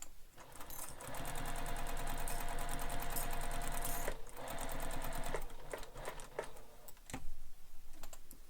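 Sewing machine stitching a seam on a bowler bag, a steady rapid run of needle strokes lasting several seconds, with brief pauses and a few clicks near the end.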